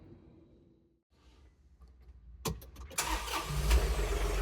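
A John Deere 3039R compact tractor engine cranks briefly after a quiet pause, then catches and settles into a loud, rough idle close by, with no talk.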